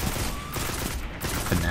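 Enemy gunfire in the video game Destiny 2: a dense, continuous barrage of game weapon shots and impacts, loud and busy, with a brief voice near the end.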